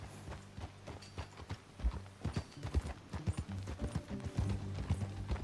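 Horse hooves clip-clop in a quick, uneven rhythm under a mechanical rattle and low music in Red Dead Redemption 2, moderately quiet.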